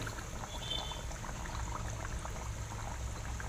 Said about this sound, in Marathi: आणि अगदी हळूहळू तळायचं आहे बघा थोडा वेळ लागतो पुरी तळायला